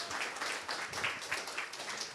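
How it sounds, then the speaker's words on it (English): An audience applauds steadily at a meeting, the clapping dense and continuous throughout, with a few cheers mixed in. "first of all, big applause"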